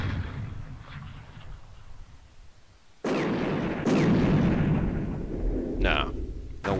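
A recoilless rifle firing in a Vietnam War strategy game: two heavy booming blasts land a second apart, loud and close, followed by a sharper crack, after quieter background noise and some talk.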